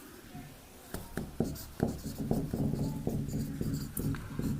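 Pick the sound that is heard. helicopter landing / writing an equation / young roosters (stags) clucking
writing an equation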